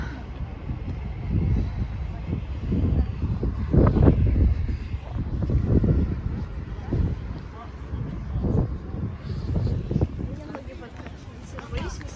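Strong, cold gusts of wind at Moscow City buffet the microphone in a loud, rumbling roar that rises and falls, with occasional voices underneath.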